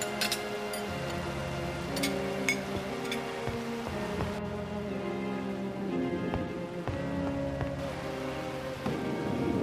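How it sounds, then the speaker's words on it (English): Storm rain in the Agatha Christie And Then There Were None game hisses steadily as a dense wash of falling drops, accompanied by soft clicks and faint tonal ambience, with no voices. "The storm is kicking up something fierce."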